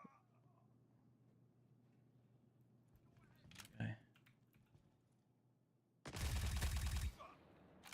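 A brief burst of rapid gunfire erupts loud and close in the Star Citizen game, about a second of dense shots following a quieter stretch of faint clicks and a single thud, with a voice talking earlier.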